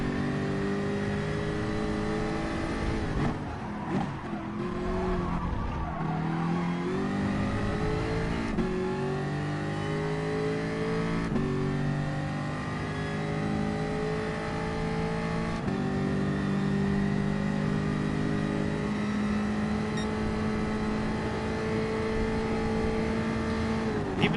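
Race car engines droning at the Bathurst circuit in GT Sport, a steady, continuous engine whine with gentle rises and falls in pitch as gears change, loud and constant throughout with no talk.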